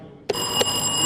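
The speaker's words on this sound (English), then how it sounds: "Okay, there's nothing wrong with your bell." A quiz contestant's buzzer bell at a national science and maths quiz rings twice in close succession, each a bright, sharp metallic strike with a lingering ring, loud and near over a low room hum.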